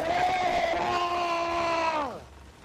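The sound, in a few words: person screaming into the microphone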